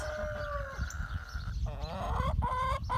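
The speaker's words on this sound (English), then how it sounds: "Do any of you chicken owners have gripey chickens like this?" Chickens cluck and grumble nearby in drawn-out, complaining calls, several overlapping over a low background rumble.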